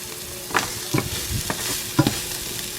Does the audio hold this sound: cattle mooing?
no